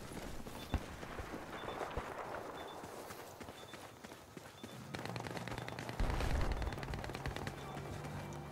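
AEK 971 rifle fire in Battlefield 4 on PS4, with rapid shots mixed into a dense, busy battlefield soundscape of footsteps and distant combat, moderately loud and continuous.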